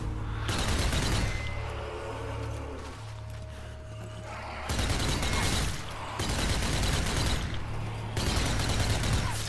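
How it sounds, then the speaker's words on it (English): A trench gun fires in the zombie shooter game Zombie Army 4, with loud stretches of rapid gunfire separated by a quieter gap, all heard close. "This is much better than a starting gun, the trench gun."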